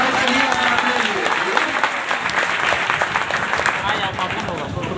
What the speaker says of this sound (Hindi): एक जोरदार तालियों से स्वागत करेंगे सर का